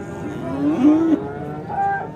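A Russian-breed cow moos twice, a long low bellow followed by a shorter call, close by with faint background noise.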